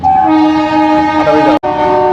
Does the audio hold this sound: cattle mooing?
no